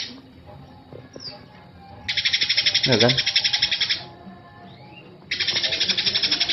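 Caged lovebird singing a loud, rapid, buzzy trilling song in two long bursts with a short warbled phrase between them, close by, while someone talks over it.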